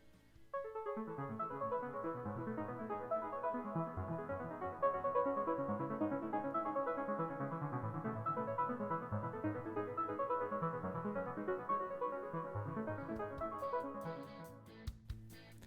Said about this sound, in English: The second synth is an arpeggiator,